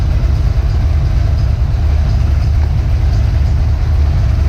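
Foxbody Mustang engine idling smoothly after a base idle reset, a steady, loud, low rumble running unchanged throughout with no other sounds.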